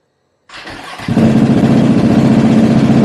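A Lambretta scooter engine cranks briefly, then catches and settles into a steady, buzzing idle, loud and close, with no talking.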